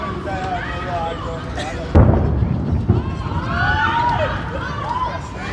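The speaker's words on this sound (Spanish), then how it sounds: "eso es el noon gun, es el cañonazo que se dispara todos los mediodías en Sudáfrica" Cape Town's noon gun, a cannon fired at midday, sends a single deep boom cracking out over background chatter, followed by a fainter echoing thud as people keep talking around it.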